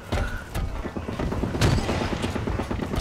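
Sniper rifle fire in the shooter game Blacklight Retribution, dense loud gunshots crackling in rapid succession with sharp booming reports over about three seconds, under a busy battle din.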